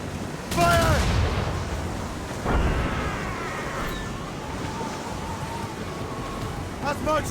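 Ship cannons fire at sea in Assassin's Creed Rogue, with a sharp boom near the start and another a couple of seconds later, then a rushing wash over the water. Shouting voices come and go over the blasts.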